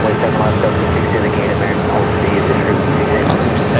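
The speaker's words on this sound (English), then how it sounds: "Our next takeoff heading to Miami, Florida, in the A321neo with American. Rolling down to runway 7 left." An American Airlines A321neo jet roars on its takeoff roll down runway 7 left at Phoenix Sky Harbor, a loud steady broadband rumble heard from some distance under a person talking.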